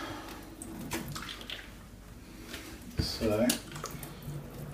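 Running water rinses chocolate syrup stains off a shoe treated with water-repellent spray, a close splashing wash that swells near the end, with someone speaking briefly.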